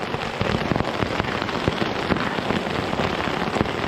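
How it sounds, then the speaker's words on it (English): Hail falling over Dartmoor moorland, a dense, steady patter of many hard pellets striking the ground and surfaces nearby, continuous and loud throughout with no speech. "So this is hail over Dartmoor."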